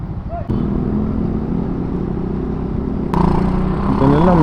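Heavy road traffic rumbles steadily around a rider on a Kawasaki Fury 125 motorcycle, with engines idling and revving nearby and a horn-like tone toward the end, while a voice talks over it.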